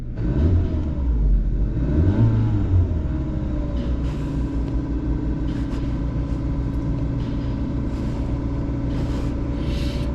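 A Kia Rio engine held steady at about 2,000 RPM, suspected of a catalytic converter fault, gives a continuous mid-pitched hum with a low rumble, close and even throughout with no talking.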